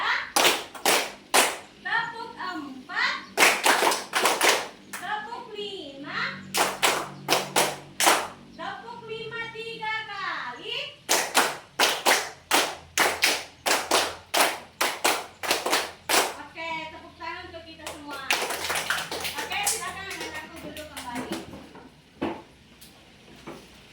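Schoolchildren in a classroom clap along to a counted clapping chant, sharp rhythmic bursts of hand claps in groups alternating with a teacher's voice and children calling out between them.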